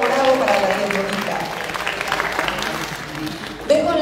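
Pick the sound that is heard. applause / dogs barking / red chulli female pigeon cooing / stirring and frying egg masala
applause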